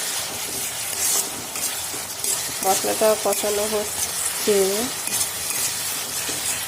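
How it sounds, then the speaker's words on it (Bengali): Spice paste sautéing in hot oil in a pan, a steady sizzle with stirring scrapes, while someone talks over it briefly. "মশলাটা কষানো হচ্ছে"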